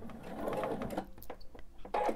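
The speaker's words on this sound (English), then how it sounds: "It'd be good if my sewing machine was in forward and not reverse." Sewing machine stitching binding onto a quilt, a close, steady whirring run with brief stops and restarts, no talk over it.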